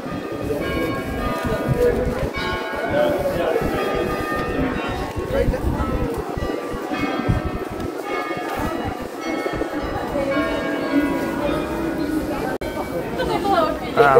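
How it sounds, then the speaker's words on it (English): Church bells ring out repeatedly in the distance from a church tower over a lively crowd murmur and voices chatting in an open square during a fair and flower parade in Haarlem, Netherlands. "The church bells."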